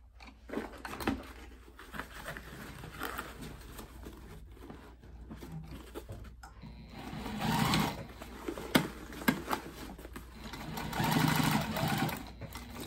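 A sewing machine runs in steady, close bursts while stitching a seam on a summer project box bag, its whirring motor and needle clatter rising and falling across the stretch with brief pauses.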